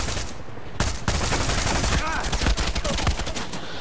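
Weapon fire in the video game Far Cry 6, a dense run of sharp crackling shots close and loud over continuous game noise.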